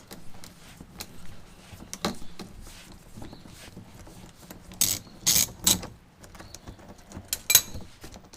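A ratchet works 10 mm bolts loose on a salvaged 2015 Dodge Dart, giving soft clicking and mechanical rattles with a few sharper bursts near the end, close and without talk.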